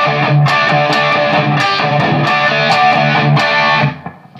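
Electric guitar played through a Jamtastik distortion pedal, loud and continuous with several sharp strummed attacks over about four seconds before cutting off; no voices.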